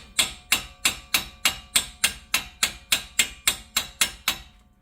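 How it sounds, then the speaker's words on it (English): A hammer lightly tapping a Jeep Wrangler front axle hub bearing, about fifteen evenly spaced metallic strikes with a sharp ringing attack, each decaying quickly, steady in rhythm and close by. "we're just going to lightly hit that with a hammer"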